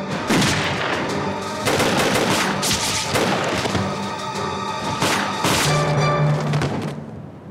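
Loud, dense gunfire fills a wartime drama battle scene involving Japanese troops in a valley, with rapid overlapping shots and bursts of automatic fire continuing almost without pause.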